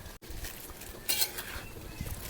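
A spoon scrapes and turns pork chukka around a hot pan in a home kitchen, with soft continuous scraping and a brief brighter clink partway through, all fairly quiet.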